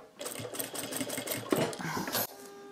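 A sewing machine stitching a fabric flower, running in a fast, steady rhythmic chatter for about two seconds before stopping abruptly.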